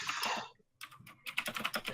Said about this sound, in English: it's whenever I touch my keyboard, it's really fucking loud